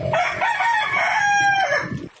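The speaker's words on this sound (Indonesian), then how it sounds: "Nah, itu ayam membenarkan." A rooster crows once, close and loud, in a single long cock-a-doodle-doo that rises and holds before trailing off, with no other voices.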